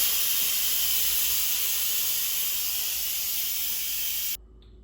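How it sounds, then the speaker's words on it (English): An Instant Pot vents its steam through a quick release after cooking turkey tenderloin, giving a loud, continuous hiss close by that cuts off abruptly near the end. "so let's quick release the steam."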